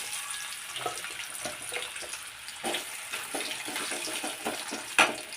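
Potato pieces frying in oil in a pan for an egg and potato curry, a steady crackling sizzle with scattered sharper pops and spits, close and moderately loud, with no talking.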